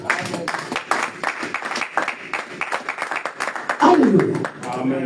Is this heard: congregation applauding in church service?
yes